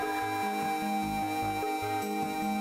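Aquatic Ambience from the SNES game Donkey Kong Country plays softly as a mellow synthesized piece. A sustained airy pad sits over a repeating pulsing bass figure, with no voice.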